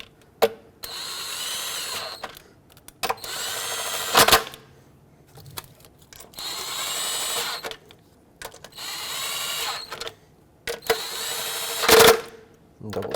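Power-tool bursts of a few seconds each, separated by short pauses, as throttle body bolts are snugged down on a Ford Flex engine, with a loud clunk around the twelfth second.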